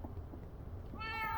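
A Minecraft cat meows once, a short clear mew near the end over a low background hum, without talk.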